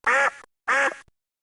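Two loud, nasal cartoon duck quacks, each about a third of a second, separated by a short pause, as a video game sound effect.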